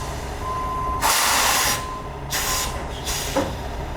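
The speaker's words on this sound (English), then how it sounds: "Okay, the truck is going in there." Delivery truck pulling into a store parking lot at night, with bursts of air-brake hiss and engine noise rising and falling over steady background hum; no talking.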